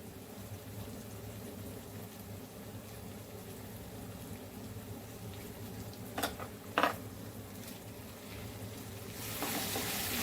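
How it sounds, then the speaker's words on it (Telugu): Chicken frying in oil with chili and coriander powder, a steady soft sizzle with a couple of brief clinks of stirring, fairly quiet and close. "ఇది కూడా బాగా నూనెలో కొద్దిగా బాగా ఫ్రై అవ్వాలి"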